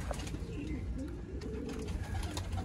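Soft, low pigeon coos repeat over a steady background murmur, with several birds cooing close by.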